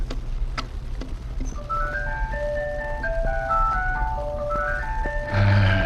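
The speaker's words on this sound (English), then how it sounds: "Hey, you gonna play that music box again?" A music box plays a slow, tinkling melody of bright plucked notes over a steady low hum, followed at the end by a louder burst of sound.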